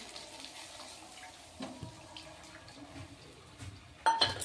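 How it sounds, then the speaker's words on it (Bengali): Water is poured into a cooking pot holding coriander leaves for a Bengali dish, a soft steady trickle at close range that ends in a louder splash near the end, with no voices. "এবার আমি জলটা দিচ্ছি।"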